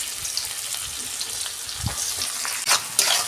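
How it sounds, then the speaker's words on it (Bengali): Two chopped onions fry in oil with black cumin, a soft continuous sizzle close by with a couple of louder stirring clatters toward the end. "ততক্ষণ বন্ধুরা পেঁয়াজটা ভাজা হোক"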